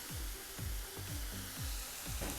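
Sausage sizzling steadily in a hot pan as butter goes in, a close, continuous hiss and crackle with repeated soft scraping strokes of stirring, no voices.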